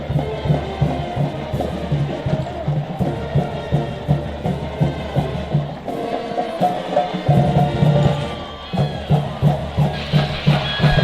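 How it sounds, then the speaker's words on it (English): A stadium crowd of Blazer fans at a college football championship game does a rhythmic cheer, loud repeated chant pulses with a brief lull near the middle before the chanting resumes. "Blazer fans, put your hands together and join us in the Go Blazers cheer."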